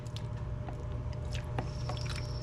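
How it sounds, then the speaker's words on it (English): Liquid vinegar poured over chicken wings in an open container and stirred around, giving steady wet squishing and sloshing with small drips and clicks, close and continuous. "we're just gonna pour it over top of the wings and mix it around the best I can with not having a lid"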